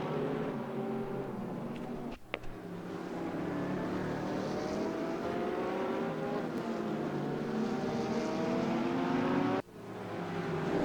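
GT3 cars from Audi and Porsche race in a close pack around Circuit Zandvoort in the RaceRoom sim, with several engines droning and revving together continuously and loud, and two brief sharp dips in the engine roar.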